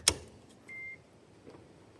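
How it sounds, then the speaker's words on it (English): A Nissan Leaf charger gives one short, clear electronic beep near the middle, after a brief click at the start, in an otherwise quiet setting. "Does a single beep."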